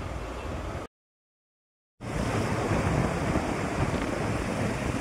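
Steady ocean waves and surf roll at Akkayapalem beach under wind noise, with a brief dropout of complete silence near the start before the broad, continuous wash resumes.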